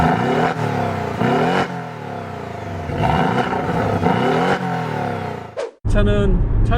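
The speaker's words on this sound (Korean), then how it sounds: "지금 현재 나와 있는 718 박스터 K맨은 기본형 머플러를 갖고 있다고 해도 그 머플러 사운드가 어마어마해요." A Porsche 718 Cayman with the standard muffler and no sports exhaust, driven in PDK auto mode, gives a loud, steady engine and exhaust drone that rises and falls with throttle and drops out briefly near the end.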